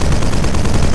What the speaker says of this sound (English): The machine gun